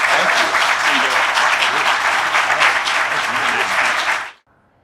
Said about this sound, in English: Can we give him a round of applause for coming to share his artwork?